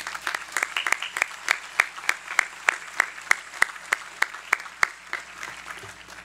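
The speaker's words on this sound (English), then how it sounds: "Let's give them a round of applause." Audience at a South Salem graduation ceremony gives a round of applause, sparse at first with a few sharp, evenly spaced claps standing out, then thinning toward the end.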